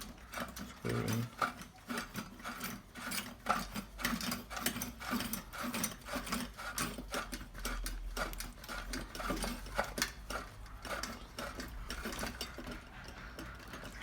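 Metal pipe sections being screwed together by hand, giving a steady run of rapid mechanical clicks and ratcheting scrapes, close and fairly loud throughout with no talk.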